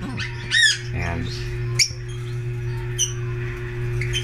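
African lovebirds, including a green hen, let out sharp squawks and short chirps in a few scattered bursts, close by, over a steady low electrical hum.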